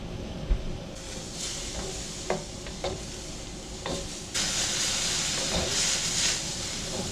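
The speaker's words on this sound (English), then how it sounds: "We're going to let that steam off and fry a little bit." Beef and broccoli stir fry sizzles and hisses in a hot pan, with occasional scraping stirs and a surge of louder steamy hissing partway through as added water steams off.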